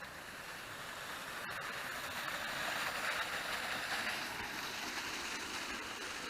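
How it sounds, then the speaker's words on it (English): A small river flows steadily through the woods beside a riverbank. It is a continuous, fairly faint rushing hiss of moving water with no talk. "This little river gets a good flow on it sometimes."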